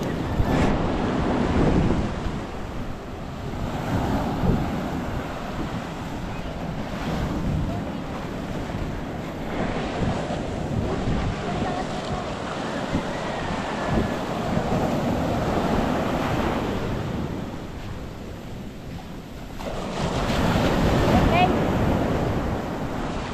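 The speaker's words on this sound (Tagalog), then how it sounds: "Alon." Ocean waves washing and breaking near the shore, a steady loud rumble of surf mixed with wind buffeting the microphone, swelling again toward the end.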